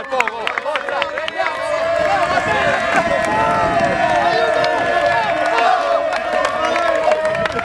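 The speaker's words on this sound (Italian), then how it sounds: "un applauso per il mio coraggio" A loud crowd reacting with a long wave of applause, cheering and shouting. Clapping and voices blend into a dense, continuous roar that holds steady throughout.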